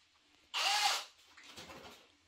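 A power drill drives a screw into wood while a sliding cabinet door is being built, one loud close whirring burst about half a second long, followed by quieter scraping.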